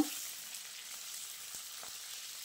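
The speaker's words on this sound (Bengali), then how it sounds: "এখন আমি দিয়ে দিচ্ছি কেটে রাখা টমেটো আর ক্যাপসিকাম কুচিগুলো। দিয়ে আমি নেড়েচেড়ে খুব ভালোভাবে সব কিছু একসঙ্গে মিশিয়ে নেব।" Eggplant, tomato and capsicum fry in a pan with a soft steady sizzle and a few faint stirring scrapes, close and quiet with no talking.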